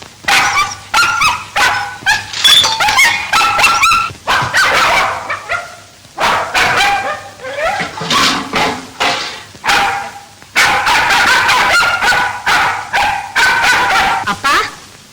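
A dog barks and yips repeatedly in sharp bursts, close and loud, with whimpering between barks, while people talk over and between the barking.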